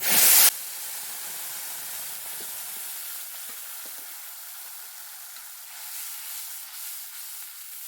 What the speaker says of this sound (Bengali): আমগুলো একটু ভেজে নেবো